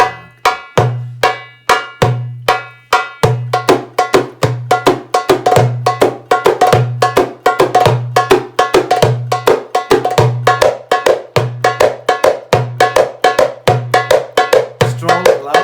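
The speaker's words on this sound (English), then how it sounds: "keep the sound of the Malfouf in the hand in different ways" A malfouf frame drum is struck by hand in quick, steady rhythmic patterns, mixing deep resonant tones with sharp bright slaps, loud and close, with no talking.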